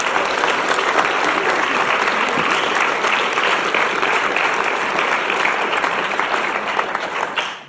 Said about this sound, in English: he definitely deserves a round of applause